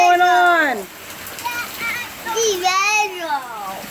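Heavy rain pours down in hot, humid New York, a steady wash of falling water under excited children's voices that chatter and call out close by throughout.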